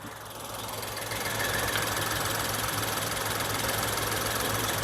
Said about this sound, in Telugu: ఇంజిన్ అయితే చాలా స్మూత్